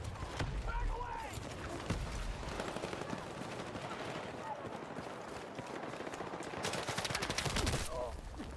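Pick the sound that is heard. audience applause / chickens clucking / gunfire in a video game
gunfire in a video game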